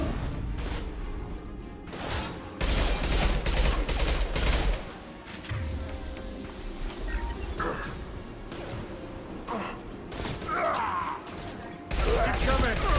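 Rapid bursts of gunfire and explosive impacts in a video game battle, loud and repeated in clusters with short lulls, with brief in-game voices between.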